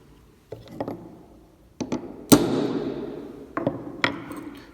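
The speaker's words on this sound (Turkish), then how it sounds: "pergel merkezine ince bir nokta vuruyoruz" Metal taps of a center punch struck with a hammer to mark a dot at a compass center on a metal workpiece, several sharp separate hits with one louder ringing strike, close and alone.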